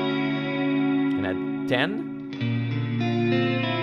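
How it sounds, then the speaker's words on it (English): Neunaber Wet Reverberator reverb plugin set to maximum, washing sustained guitar-like chords into a long, dense reverb tail, with a brief spoken phrase sitting over the wet ambience midway. "It's like a delay pedal, but it's a reverb instead."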